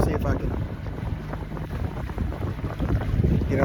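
Strong wind buffets the microphone on a lake during a crappie fishing trip from a boat, a steady rough rumble with gusts and water slapping close by, alone without talk.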